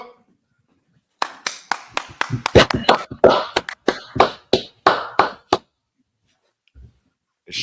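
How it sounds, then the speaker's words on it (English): An audience claps in bursts of sharp, separate claps that build, then fade to scattered hand claps before falling silent; a voice is heard briefly near the end. "All right, clap it up."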